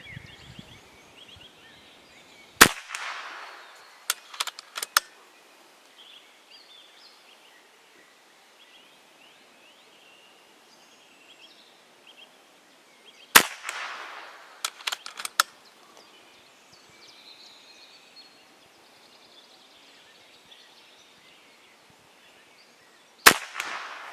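A Kral Arms Puncher Mega PCP air rifle fires three sharp, isolated shots spaced well apart, each followed by brief clicks and handling noise against a quiet outdoor background.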